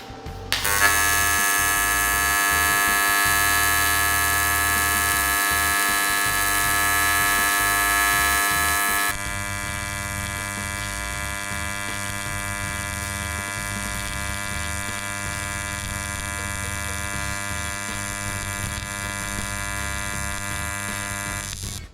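Aluminum being welded as a bead is laid, a loud steady electric buzz with a sharp, harsh high edge that cuts off after several seconds and leaves a quieter humming drone underneath.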